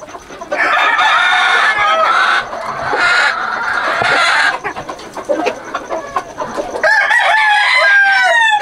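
Chickens cluck and a rooster crows loudly and close by in a farmyard, with several overlapping calls and squawks through the whole stretch.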